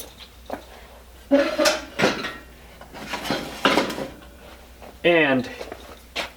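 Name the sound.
camping cook kit pots and pans being handled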